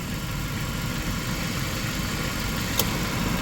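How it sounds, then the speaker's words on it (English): A car idles with its air-conditioning compressor running, a steady low engine hum and drone with one faint click partway through. "you're gonna hear the compressor stay on"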